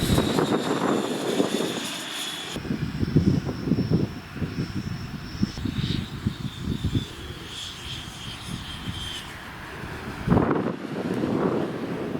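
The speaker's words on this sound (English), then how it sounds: "The jet is powered by a 100mm Midifan Evo from Vemotec." A radio-controlled F-35 model jet with a 100 mm Midifan Evo ducted fan flies past, its high whining whistle rising and falling as it passes, heard over gusts of wind noise at an outdoor flying field.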